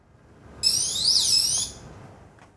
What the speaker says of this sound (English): that activated the AirShield internal siren.